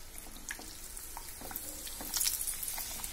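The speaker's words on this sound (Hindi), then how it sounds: "अब मैं पापड़ को डाल रही हूँ गर्म तेल में" Potato papad dropped into very hot oil at home, giving a steady close sizzle and crackle of frying with light bubbling, no talking over it.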